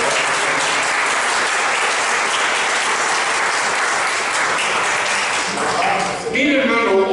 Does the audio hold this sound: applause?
yes